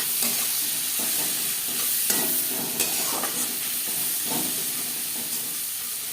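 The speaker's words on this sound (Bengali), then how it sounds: "পেঁয়াজ হালকা করে ভেজে নেব" Chopped onions fry in oil in a wok for egg curry, giving a steady close sizzle and hiss with occasional stirring scrapes throughout, no voices.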